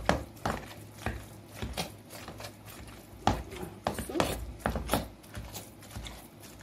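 Cooked honey pumpkin with a little ghee is pressed with a hand masher in a pot, giving soft, irregular thumps and squelchy rubbing strokes close by at a moderate level.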